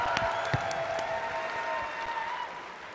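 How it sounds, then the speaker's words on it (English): A large audience gives a round of applause for the judges at an event's opening remarks, a steady wash of dense clapping with a few cheers, sustained and even throughout. "Give me one more big round of applause for the judges."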